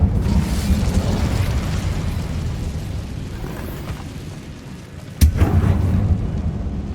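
An Incendio fire spell goes off in Hogwarts Legacy on PS5, a sudden sharp burst near the end that breaks a steady low roar of flame and ambient rumble.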